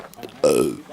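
A single loud, drawn-out human burp lasting about half a second with a falling pitch, close to the microphone, with faint background chatter before and after it.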